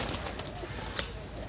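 Pigeons on a rooftop coo softly in a brief, faint burst, with a few soft, sharp taps and faint background noise.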